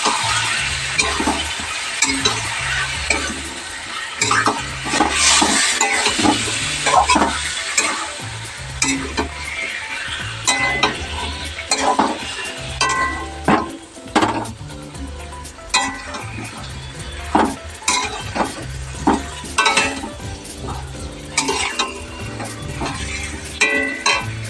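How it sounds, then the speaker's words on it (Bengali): Chicken pieces sizzle and fry in hot oil with whole garam masala and chopped onion while a spatula stirs and scrapes the pan in steady, busy strokes, loud and close throughout for a Bengali-style chicken jhol. "এবার দিয়ে দেবো আমি চিকেনটা দিয়ে দিচ্ছি। ভালো করে কষিয়ে নেব।"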